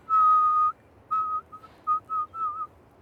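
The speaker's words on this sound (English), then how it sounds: "Fun fact, you never used to be able to do the outward whistle." A person whistles outward in a clear, pure tone, holding one long note and then a run of short, choppy notes with brief gaps, close and alone.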